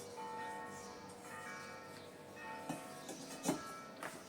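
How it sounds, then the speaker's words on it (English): Church bells ringing on a Sunday, faint and distant with sustained tones, while a few close clinks and knocks of pottery being handled sound nearby. "The bells are ringing."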